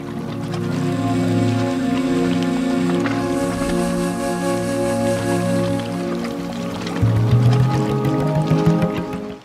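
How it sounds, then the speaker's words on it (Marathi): A river flowing beside a riverbank in Indapur, India, rushing steadily and loudly close by with a broad continuous wash of water that swells near the end. "फायनली आता आपण नदी वालो आणि तो नदीचा आवाज."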